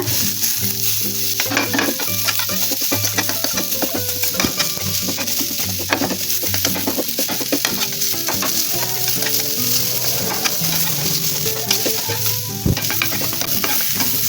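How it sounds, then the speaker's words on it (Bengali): Onions frying and being stirred in a pan for a homemade dried puti fish dish, a steady loud sizzle with repeated scraping stirs throughout, no talking. "আমি কিন্তু বেশি ভাজবো না পেঁয়াজটা"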